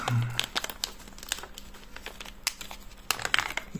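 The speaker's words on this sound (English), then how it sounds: "It will stay in this little plastic bag. So when we open the bag," A small plastic bag holding a miniature cast is opened and handled, giving crisp crinkling and rustling with scattered sharp crackles and a few tearing snaps, close and moderately loud throughout.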